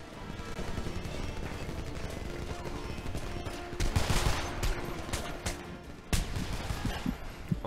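Gunfire in the video game Homefront: distant, low-level shots crackle irregularly, with sharper bursts standing out near the middle and again toward the end.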